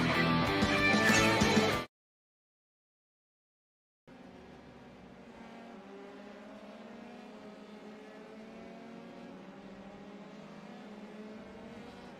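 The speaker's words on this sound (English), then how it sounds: "Here was some of the sounds of the engines with these race cars." Race car engines at a racing event, heard from a distance as a low, continuous drone that follows a brief loud burst and a stretch of silence.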